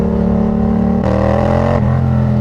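A Yamaha MT-07 motorcycle engine idles steadily, then revs briefly upward before settling back, loud and close with no voices.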